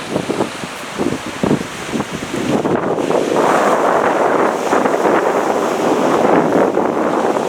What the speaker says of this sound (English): A little bit breezy here, viewers, so I'll put a bit of cotton wool over the microphone.